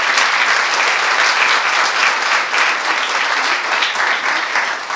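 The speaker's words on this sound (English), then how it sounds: "Let's give them a warm round of applause." A warm round of applause at a special citizenship ceremony held at Casa Loma in Toronto: loud, dense, sustained clapping from a large gathering, holding steady for five seconds with no voices.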